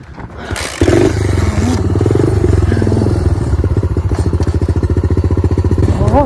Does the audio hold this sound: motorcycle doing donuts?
yes